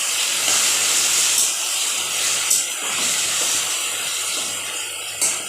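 Water hitting a hot pan of banana flower curry with fried fritters, giving a steady close hiss of steam with a few brief louder bursts.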